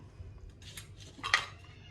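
A couple of light metallic clinks, a utensil tapping against a mixer-grinder jar, with a sharper clink near the end over faint background hum.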